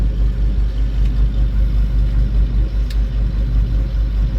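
A farm machine's engine idles during a rye harvest, a loud, steady low rumble that holds constant throughout with no talk.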